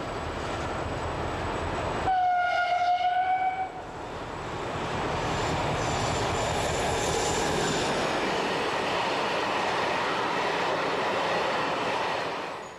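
A freight train runs along a Belgian main line toward the Netherlands. A short horn blast sounds early, then the steady rumble and clatter of wagons goes on close by, with a faint high wheel squeal.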